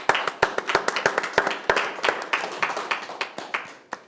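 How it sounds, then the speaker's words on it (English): A small group claps for about four seconds, with individual hand claps audible rather than a roaring crowd. "Let's give everybody a round of applause."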